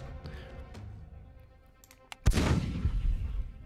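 In the undersea game Magic Ocean, a cannon fires at jellyfish with one sharp, loud blast and a rumbling tail, preceded by a few quieter clicks and thuds.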